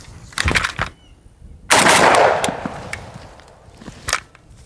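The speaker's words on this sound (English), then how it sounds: "And obviously, I can then shoot it." Several sharp rifle shots from an M10X rifle ring out close and loud, with a longer, louder blast and reverberant tail in the middle and another crisp report near the end, with no talking.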